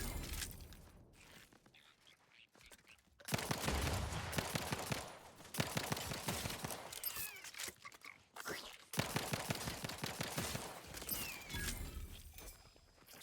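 Assault rifle fire in The Outer Worlds 2, sustained automatic bursts coming in several long volleys separated by brief pauses, moderately loud and mixed with game effects.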